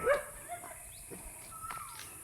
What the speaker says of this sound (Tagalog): Ayan, may mga aso pa.